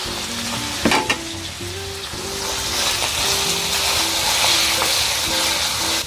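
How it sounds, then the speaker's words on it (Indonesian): Chicken fillet, shrimp and chicken gizzards fry briefly for capcay, giving a loud continuous sizzle like rain on a surface, with a couple of sharp clatters early and low background music beneath. "dada ayam filet, udang, dan ati ampla saya goreng sebentar ya teman semua."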